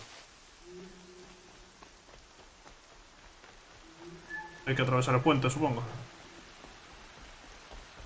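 Steady hiss of rain in Horizon Zero Dawn continues throughout, while someone speaks briefly near the middle over it.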